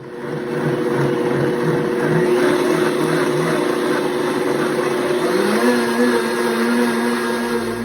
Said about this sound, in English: So we're gonna blend it while it's still pretty hot